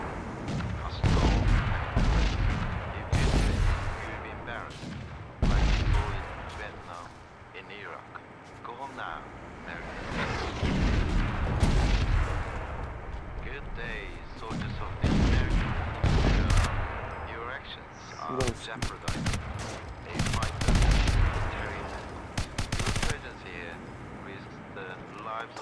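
Tank cannon blasts and rattling gunfire in Crysis Warhead, repeated loud booms and bursts spread across the stretch, with people talking excitedly over the combat.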